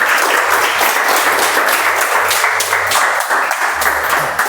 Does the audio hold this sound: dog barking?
no